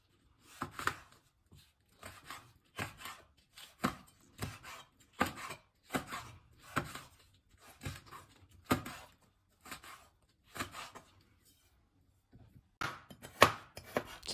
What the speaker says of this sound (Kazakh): келесі кезекте ащы бұрышымызды ұсақтап осылай тураймыз